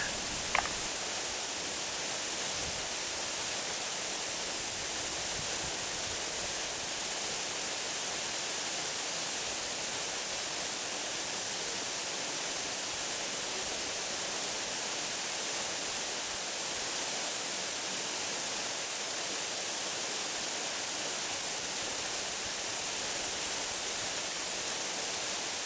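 Laurel Falls waterfall in Pocket Wilderness, a steady, soft broadband hiss of falling water heard from a distance, continuous and unchanging throughout with no voices.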